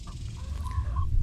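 Homestead chickens cluck nearby in a short burst of soft rising and falling calls over a low background rumble.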